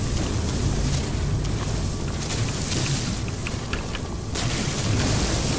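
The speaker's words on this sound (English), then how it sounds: "Yeah, let's explode all that stuff there" Explosions in No Man's Sky merge into a continuous, heavy rumbling roar with scattered sharper cracks, staying loud and close for several seconds.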